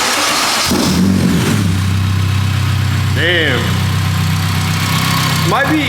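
Honda Civic EM1 engine catching on its first start-up after a short crank and settling into a loud steady idle close by, with a voice reacting and some chirping squeaks.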